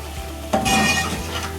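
Chicken and tori curry hissing in a pan as the heat is turned up, with a sudden loud sizzle and stirring scrape that then settles into a steady frying crackle.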